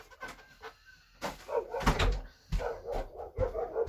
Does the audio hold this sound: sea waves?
no